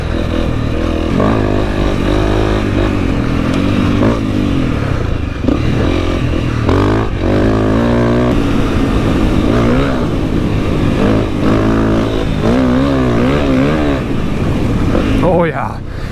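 A Honda CRF250L motorcycle revs and climbs in pitch as it lifts into a wheelie, the engine steady and loud with a voice talking over it throughout.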